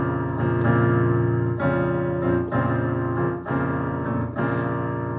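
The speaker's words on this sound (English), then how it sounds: "That's Chopin's Funeral March, and it certainly doesn't sound happy." Chopin's Funeral March plays as a dense, sustained run of low, dark chords, each heavy chord changing at a slow, solemn pace with a full, continuous sound and no voices.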